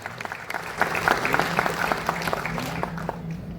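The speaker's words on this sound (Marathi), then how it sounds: "एक जोरदार टाळ्या आपण सगळ्या महावितरणच्या मावळ्यांसाठी वाजवूया." An audience at a Mahavitaran Pen division employees' event in Roha claps for the staff, a dense burst of many hands that swells after a scattered start and carries steadily through to the end.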